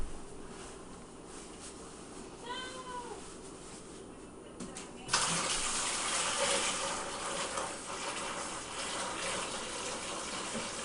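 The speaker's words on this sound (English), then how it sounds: "We will take the hot cider we mixed in with the sugar and pour it into the bucket first." Hot cider mixed with sugar pours in a steady gush into a bucket during hard cider making, a loud continuous splashing that starts abruptly partway through after quieter background noise.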